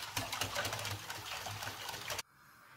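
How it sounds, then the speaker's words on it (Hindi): Water is added to gram flour batter for pakora kadhi and beaten in a bowl, giving a busy, splashy, rapid whisking that is close and fairly loud before stopping abruptly near the end. "अब इसमें मैंने 11 ग्लास पानी डाल दिए हैं और इसको थोड़ा सा बीट कर लेंगे"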